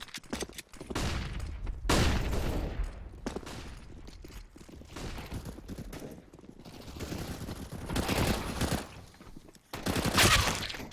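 Rapid bursts of CZ pistol fire in a CS:GO match, several loud clustered volleys spaced across the stretch, each sharp crack and tail filling the mix, with no talk over it.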